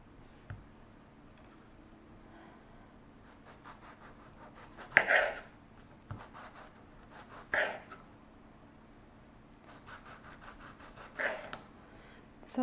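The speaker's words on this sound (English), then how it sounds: "this is a drier tomato with very few seeds, and look at how it slices" A kitchen knife slices a dry, low-seed Cuore di Bue heirloom tomato, giving a few quiet, separate cutting crunches spread over a hushed background.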